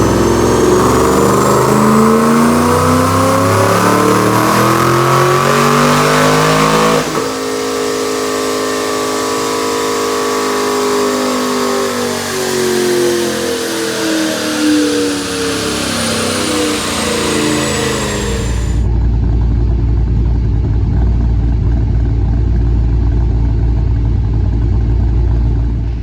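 A supercharged 2010 Mustang GT automatic with aftermarket cams and headers makes a dyno pull, roaring loudly as it climbs through the revs in a long sustained sweep, shifting once, then dropping to a rumbling idle, with no talking.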